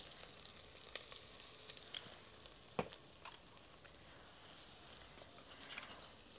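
Hand-pounded ginger-garlic paste sautéing with onions in a pan for Pakistani mutton methi, a steady soft sizzle with scattered crackles and a few stirring scrapes, close and fairly quiet with no talk.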